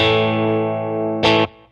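Electric guitar through a FlyRig pedal with the blonde gain engaged, a sustained driven chord ringing loud and steady, then a sharp louder strum that quickly cuts off.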